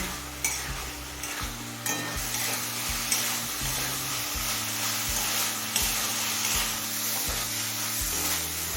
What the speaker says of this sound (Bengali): এবার মিডিয়াম ফ্লেমে খুব ভালো করে কষিয়ে নেব